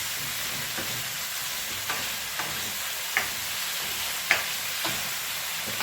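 Chicken feet and soy sauce sizzle in a hot pan for adobo, a steady frying hiss broken by several sharp clicks and scrapes of a spatula stirring.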